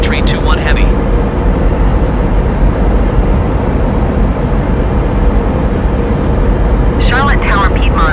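An Airbus A321neo in landing, a loud steady jet engine and airflow roar filling the whole span, with brief radio voices crackling in at the start and end.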